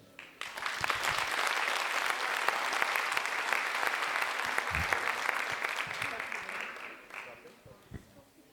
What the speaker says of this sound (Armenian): Այս ժպիտների ծափարությունները ձեզ են։